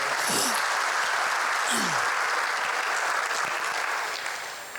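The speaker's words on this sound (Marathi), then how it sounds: "या सर्वांसाठी एकदा जोरदार टाळ्या झाल्या पाहिजे" Loud, dense applause from an audience at a school event, a sustained burst of many hands clapping together that thins and fades toward the end.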